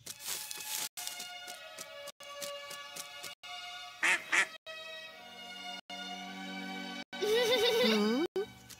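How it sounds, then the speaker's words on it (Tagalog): A small duck quacks in a couple of short bursts, with a busy musical background running throughout. "Isang maliit na pato lang pala."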